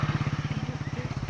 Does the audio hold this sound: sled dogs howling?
no